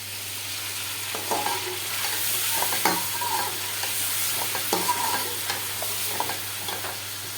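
Chicken frying in a kadhai for chicken degi biryani, a steady close sizzle with intermittent stirring scrapes and clinks throughout, no talking.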